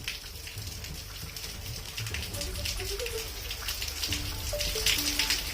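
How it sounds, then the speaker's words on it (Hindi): Rain falls in Pithoragarh, Uttarakhand, as a steady broadband hiss that thickens slightly toward the end, with faint incidental tones mixed in and no talking. "देवभूमि उत्तराखंड के पिथौरागढ़ में आज बारिश होने की वजह से लोगों को राहत मिली है"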